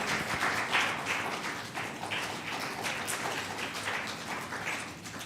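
Audience applause welcomes Dr. Tharoor at a CIMR event in Thiruvananthapuram, a steady, fairly soft wash of clapping that holds evenly for several seconds with no clear voices.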